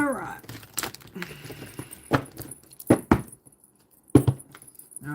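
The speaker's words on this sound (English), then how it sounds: "let's do a little quick little break and give a good shuffle" Tarot cards being shuffled between sessions of an astrology reading, giving a few sharp riffling and clacking bursts with quieter rustling in between, close to the microphone, while a voice talks briefly at the start.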